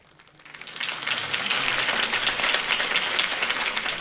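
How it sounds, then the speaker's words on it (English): A crowd breaks into applause after a campaign speech in Batman: The Telltale Series, the clapping swelling quickly from quiet into a loud, sustained ovation. "If only Mr. Wayne, my campaign's largest backer, could have heard that applause"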